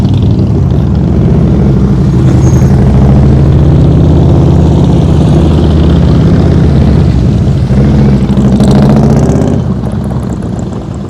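A motorcycle engine runs steadily through slow-speed riding drills, a loud, continuous low drone with slight throttle swells that tapers off near the end, with no talking.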